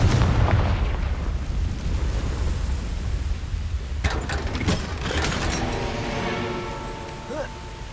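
Fiery Confringo spell blasts in the video game Hogwarts Legacy, a cluster of sharp explosive bursts and crackles after a stretch of rumbling ambience, followed by ringing magical tones fading out.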